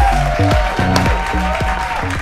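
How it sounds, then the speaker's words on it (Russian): Studio audience applause on a televised quiz show, a steady burst of clapping running under loud musical tones for about two seconds. "Аплодисменты."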